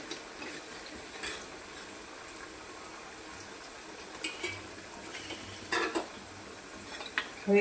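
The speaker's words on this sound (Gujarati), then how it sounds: "હવે એને આપણે હલાવવાની છે।" Yam (suran) chips frying in oil in a pan, soft sizzling bed with several scattered clinks and scrapes of a spoon stirring, quiet and close with no talking.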